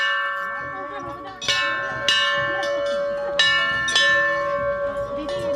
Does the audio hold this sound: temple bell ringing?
yes